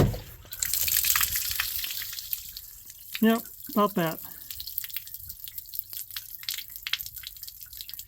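Gray water drains from a motorhome holding tank, dripping and trickling steadily throughout, with a brief burst of talk midway.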